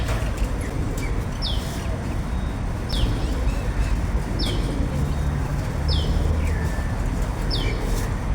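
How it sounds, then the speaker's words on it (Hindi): Pigeons cooing and birds chirping in short repeated calls at regular intervals over a steady outdoor background hum, no talking. "ये कबूतर आ गए।"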